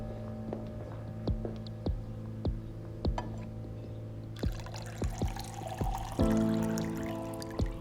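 Water poured into a glass in an indoor scene from a Turkish drama, a trickling stream with soft clinks that grows fuller near the end, set over quiet background music.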